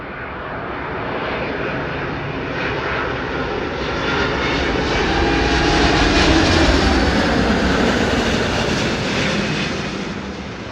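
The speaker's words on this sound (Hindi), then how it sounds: "सो भाई वर्जिन का A350 आ गया है, लैंड हुआ जस्ट अभी आपको दिखाया।" A Virgin Atlantic Airbus A350 arriving from London and landing at Delhi airport, its engines a loud, continuous roar that swells toward the middle and then eases slightly, with no talking.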